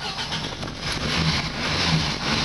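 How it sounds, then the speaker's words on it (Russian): VAZ 2109 with a tuned naturally aspirated eight-valve engine on Solex 30/30 carburettors, idling quietly with a steady low hum and airy hiss, close and alone. "Вот, машина работает тихо."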